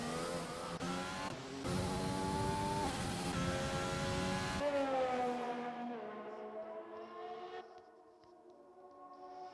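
Race cars in a sim racing game at Circuit de Catalunya, several engines whining and shifting pitch as they pass, loud at first and then fading away into the distance, with no voices over it.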